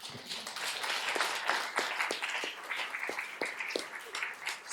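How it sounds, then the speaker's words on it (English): An audience at a venture capital panel event claps for the hosts, a dense patter of many hands with a few sharper nearby claps standing out, sustained at a fairly even level. "Applause."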